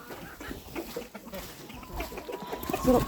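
Young chickens and ducklings cluck and peep in a farmyard as potato is fed to the chicks, a busy, scattered chorus of short calls with one louder burst near the end.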